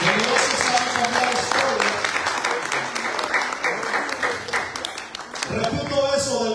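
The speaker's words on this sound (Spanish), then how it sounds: "Den un aplauso al Señor" Members of a church congregation clap for the Lord during a New Year sermon, a broad wash of applause that thins and fades near the end as a voice returns.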